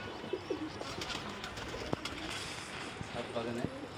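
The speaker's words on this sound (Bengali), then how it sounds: "পাশেই আমার এই কবুতর খামারটি। অনেক কবুতর" Pigeons coo in short, soft low calls from a backyard pigeon farm on a quiet afternoon, a few scattered bursts against faint outdoor ambience.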